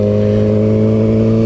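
A Kawasaki ZX6R motorcycle pulls away smoothly, its engine giving a steady, close, low-revving drone for a moment with no voices.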